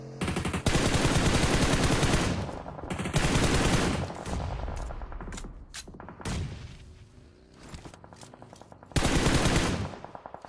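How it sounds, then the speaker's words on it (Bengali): Loud, rapid gunfire from a battle royale video game during a grand final match, with dense automatic bursts that break off briefly and resume several times. "গ্রেনেড সিনিস্টারের দিকে উল্টা কিন্তু ফেলা হচ্ছিল"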